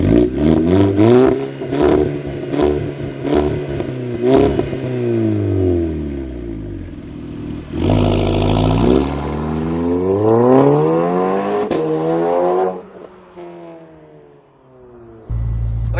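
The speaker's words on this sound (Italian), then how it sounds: "volete sentire il sound di questa auto e adesso ve lo faccio sentire" Volkswagen Golf 6 R with DSG gearbox and Stage 2 tune, engine revving loudly and repeatedly, pitch climbing and falling through several rises, close by and alone without talk.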